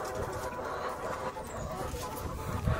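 Native country hens cluck steadily around a small poultry farm where the birds are already laying eggs, their calls forming a busy, continuous background layered over a low rumble.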